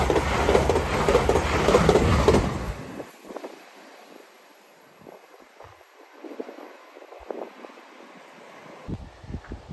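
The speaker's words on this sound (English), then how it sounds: "Next service pass through is a London King's Cross to Edinburgh Waverley." A London King's Cross to Edinburgh Waverley passenger train rushes past Hett Mill level crossing, a loud roar for about three seconds that quickly falls away to quiet outdoor ambience with light wind and scattered small sounds.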